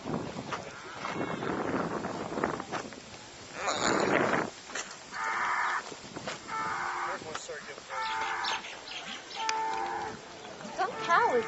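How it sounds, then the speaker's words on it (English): Cattle moo repeatedly on an outdoor stop on Oahu, several drawn-out lowing calls coming one after another amid wind noise and faint voices in the background. "Some cow is angry."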